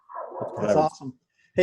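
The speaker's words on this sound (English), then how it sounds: "so the dog is barking. Someone's at the door" A pet dog barks indoors at someone at the door, a short yelp-like bark cutting in right after a person speaking close by.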